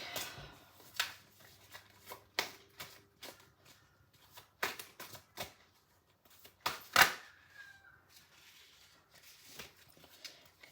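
An Angels, Gods and Goddesses oracle card deck is shuffled close up in a quiet room, giving irregular soft riffles and snaps in uneven bursts.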